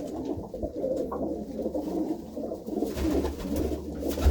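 Pigeons kept together in one loft compartment coo softly in low, murmuring throaty rolls over a steady low background rumble, with no voices.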